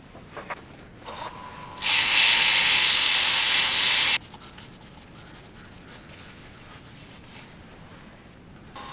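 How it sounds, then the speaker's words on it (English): A highly figured ash bowl is sanded on a wood lathe: a bright, steady abrasive whirr rises for about two seconds, following a brief lighter rub. Quiet motor hum fills the rest. "so I'll just sand that up"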